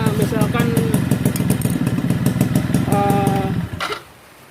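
A Suzuki Tornado two-stroke motorcycle engine running close by, a loud rapid buzzing putter with a rev, then it drops to a quiet stop near the end; someone talks over it.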